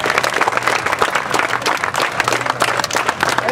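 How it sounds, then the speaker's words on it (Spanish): A crowd applauds a football club representative at the opening ceremony of a Christmas football cup in Cagua, producing loud, sustained, dense clapping with a faint low hum beneath. "Fuerte aplauso para él."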